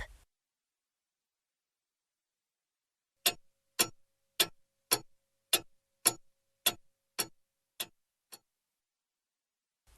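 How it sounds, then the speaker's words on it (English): A clock ticking about ten times at an even, steady pace, each tick crisp and close, with silence before and around it. "Tick!"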